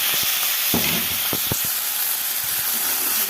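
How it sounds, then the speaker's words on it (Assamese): Onion, green chilli, meat masala, cumin powder and red chilli frying together in a pan, a loud, continuous close-up sizzle and hiss with a few soft stirring knocks in the middle. "ইয়াত মই পিঁয়াজ, জলকীয়া আৰু মিট মছলা, জিৰা গুড়ি আৰু ৰেড চিলি দি ইয়াতে ভাজি লৈছোঁ"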